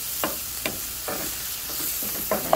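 Spinach wilts in a hot skillet with a steady sizzle, punctuated by several short scraping strokes of a utensil stirring the leaves.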